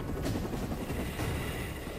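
A military rescue helicopter on the ground or landing gives off a continuous, loud rotor and turbine roar that fills the whole stretch, steady and close, with no voices on top.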